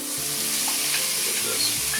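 Chopped yellow onion and red pepper sizzle and fry in a pot, a steady close hiss of crackling oil that runs the whole time without talk.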